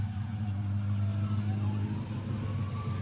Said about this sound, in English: Somebody passed on the motorcycle was going by.